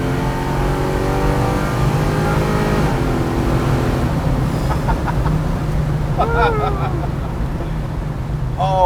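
A 400 HP 1972 Chevy Nova V8 holds a steady, loud revving drone during a burnout, with the engine pitch dipping and rising; people talk over it, with a brief higher whine near the end.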